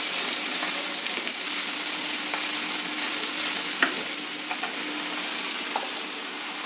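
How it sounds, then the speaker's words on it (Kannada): Vegetables frying in an oil tempering for upma, a steady close hissing sizzle with occasional spatula scrapes and stirring knocks, no voices. "ಈಗ ತರಕಾರಿ ಎಲ್ಲ ಫ್ರೈ ಆಗ್ತಾಯಿದೆ ಒಗ್ಗರಣೆನಲ್ಲಿ"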